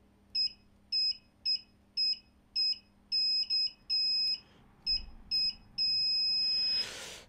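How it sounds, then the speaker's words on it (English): A continuity tester with its probes connected beeps in short repeated pulses inside a Roland JP8080 synthesizer under repair, the beeps turning irregular before one long sustained tone. "I've got my probes connected to the continuity tester."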